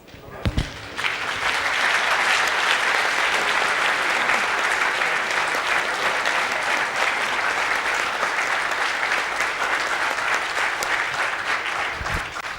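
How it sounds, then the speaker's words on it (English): Attendees at a national water resources council meeting break into sustained applause after a thud or two, a thick, even wash of many hands clapping that holds steady for several seconds. "we shall give ourselves a round of applause"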